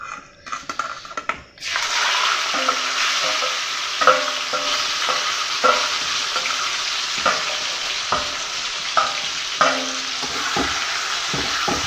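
Meat fries in mustard oil with dried red chillies and curry leaves. A few quiet clinks come first, then a loud, close sizzle bursts in, with rhythmic spatula scrapes and knocks against the pan.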